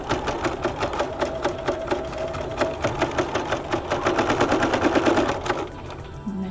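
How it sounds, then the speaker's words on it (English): A sewing machine runs steadily as it stitches around the edge of a pocket bag and through thick layers at the strap, giving a fast, even mechanical chatter that speeds up slightly toward the end. It plays alone with no voices. "I'm sewing through lots of layers right here because this is where my strap is."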